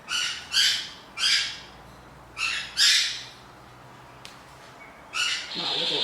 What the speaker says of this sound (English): My little birds are carrying on this morning.